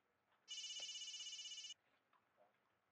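A mobile phone rings in one steady, bright electronic trill lasting just over a second, fairly loud against a quiet room, followed by faint soft noises.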